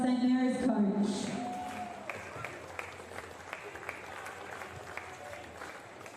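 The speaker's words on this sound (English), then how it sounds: "a massive round of applause to Tiwi Bombers Chris Jones" Crowd applause at a Northern Territory Football League men's premier league match, Tiwi Bombers against St Mary's: a speaking voice gives way to faint, scattered distant clapping that trails off and fades over several seconds.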